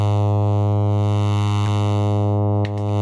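Synthesizer oscillators running without hard sync, a steady sustained tone rich in stacked harmonics with slow drift creating a gentle flanger-like shimmer, loud and alone, with a brief click near the end.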